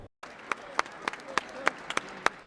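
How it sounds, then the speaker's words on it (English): Supporters applaud at a rally in the Pennsylvania state capitol in Harrisburg, with scattered sharp claps ringing out over a steady crowd murmur after a brief silence at the start. "Health Secretary Robert F. Kennedy Jr. was met with applause from supporters in the state capitol"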